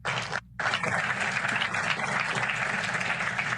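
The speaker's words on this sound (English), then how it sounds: "Everyone, please give a warm round of applause to our panelists." Sustained applause from a discussion-forum audience for the panelists, a dense steady wash of clapping that breaks for a split second near the start, then continues evenly throughout.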